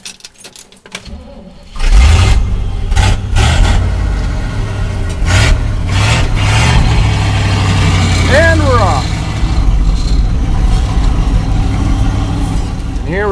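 A 1969 Chevy engine cranks and catches at about two seconds, then runs loudly and steadily at a rough idle, with a brief rising rev partway through and a voice speaking over it.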